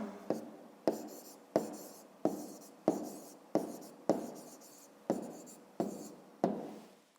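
Pen strokes on paper during a fifth-grade math exercise, about ten short scratching bursts in a steady rhythm, each starting sharply and fading, close and fairly quiet.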